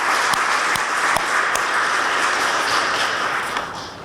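Steady applause from a large audience at a mayor's State of the City address, dense and continuous for about four seconds with a few sharper claps standing out, easing off slightly at the end.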